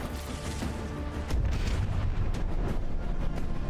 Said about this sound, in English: all of these cannons are definitely alive and well.